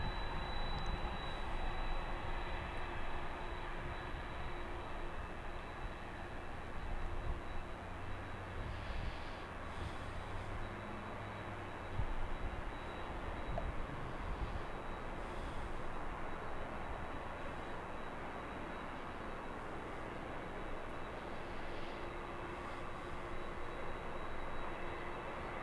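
A Delta airliner bound for JFK rumbles at LAX, a faint, distant, continuous engine drone with a thin steady whine, unbroken for nearly half a minute and without voices.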